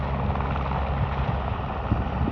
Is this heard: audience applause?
no